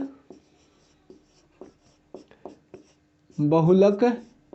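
Chalk or marker writing on a board during a statistics lesson on the mode formula, a series of short, sharp scratchy strokes spaced apart, followed by someone speaking.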